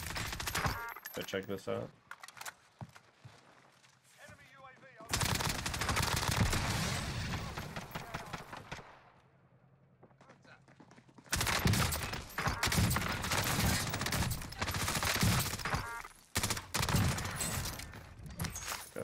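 Bursts of automatic gunfire and rapid shots from a FARA 83 rifle and other weapons on Rebirth Island in Call of Duty Cold War Warzone, dense and loud in long volleys with a quieter gap between, a player talking over them.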